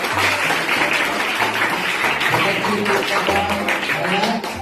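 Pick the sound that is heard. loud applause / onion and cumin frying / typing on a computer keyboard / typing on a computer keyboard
loud applause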